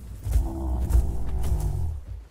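In Path of Titans, a dinosaur's friendly cry comes as a series of deep, rumbling, roar-like pulses, close and fairly loud, trailing off at the end.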